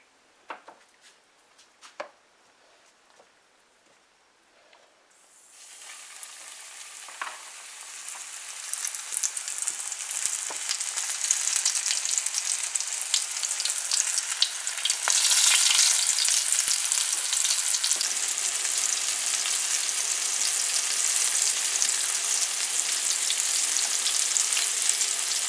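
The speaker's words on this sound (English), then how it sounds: "Alright guys, so our oil is hot. We're gonna begin frying our butterfish." Butterfish fillets dredged in all-purpose flour drop into hot oil and set off a loud, steady sizzle that swells and holds, after a few quiet knocks and handling sounds at the start.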